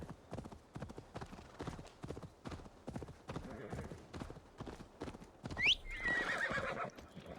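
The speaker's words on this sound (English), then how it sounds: "Shut up, horse." A horse in a video game clops along in a steady stream of hoofbeats, then gives a loud, rising neigh near the end, with someone talking over the sounds.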